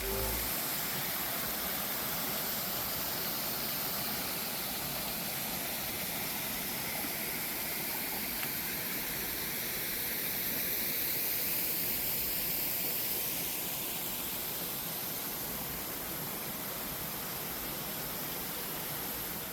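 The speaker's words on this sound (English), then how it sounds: "Now let's listen to another waterfall." Waterfall at Morikami Japanese Gardens in Delray Beach, a steady broadband rush of falling water that stays even and fairly loud for the whole stretch, with no voices over it.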